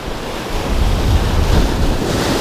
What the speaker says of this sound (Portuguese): Está na hora de avançar no mar.